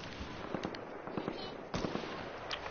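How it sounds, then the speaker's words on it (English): Sniper gunfire in a video game, several sharp cracking shots going off in quick succession over a busy background, with no voices over them. "Me and Clog, you just got sniped at."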